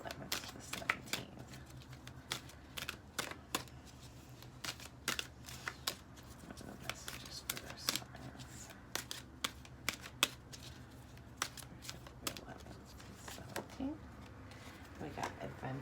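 Tarot cards are shuffled in a steady run of crisp riffles and flicks, close and fairly quiet, with a soft voice murmuring faintly underneath.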